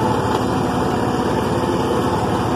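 A tractor engine runs steadily at close range while hauling a loaded wagon through a wheat field, a constant mechanical drone with no breaks and no voices.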